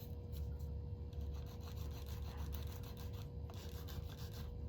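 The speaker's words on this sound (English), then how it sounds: "I'm just going to file and smooth this out." A hand nail file rasps steadily across a fingernail, smoothing it in a continuous close, quiet rubbing stroke with a faint steady hum behind it.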